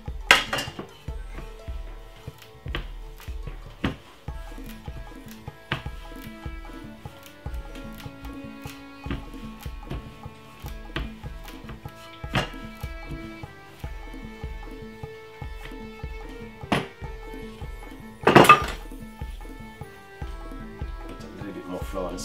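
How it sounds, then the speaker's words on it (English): A metal oven bake tray is handled with repeated clanks and clinks of metal against the counter, spread in an irregular rhythm and close by, with one louder rattling bang late on and talking between the knocks. "this is an oven bake tray"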